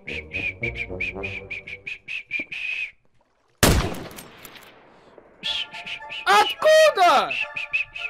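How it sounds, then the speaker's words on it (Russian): Person whistling a quick run of short, bright notes during a Minecraft sniper game, followed by a sharp gunshot-like blast and then more warbling, sliding whistles, with a brief spoken word in Russian. "Не свисти, денег не будет."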